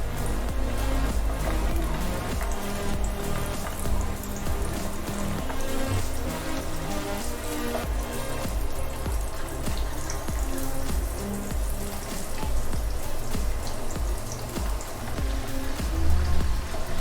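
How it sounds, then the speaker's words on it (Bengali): Cornflour-coated mushrooms frying in hot oil give a steady, dense crackle and hiss that runs loud and even from start to finish, with no voices over it. "তেলটা গরম হয়ে গেছে, ঠিক এই পর্যায়ে আমরা যে মাশরুমগুলো ফ্রাইয়ের জন্য আমরা রেখেছিলাম সেই মাশরুমগুলো আমরা দিয়ে দিব।"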